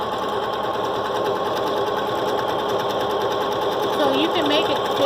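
A quilting machine stitches a stipple pattern on a quilt loaded on a Grace Cutie frame, giving a steady, continuous mechanical whir with rapid needle chatter, and pitch shifts near the end as the stitching speed changes.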